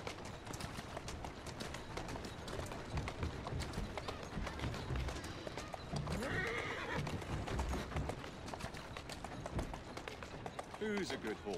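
Hooves clip-clop at a gallop amid a busy Assassin's Creed Syndicate game soundscape, with a horse whinnying partway through and a voice speaking at times.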